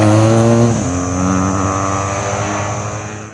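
A liquid-cooled 2013 BMW R1200GS motorcycle engine runs close by, a steady loud rumble that drops slightly in pitch early on and then holds an even idle-like drone throughout.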